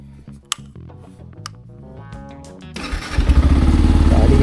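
A motorcycle engine is started after a few clicks and ticks, then catches and settles into a loud, throbbing idle with a steady rapid pulse, close by and without voices.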